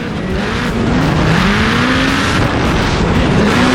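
A Formula Drift car at a Pacific Northwest event screams past with a loud, high-revving engine and sustained tire squeal, pitch climbing and wavering as it slides, with no talk over it.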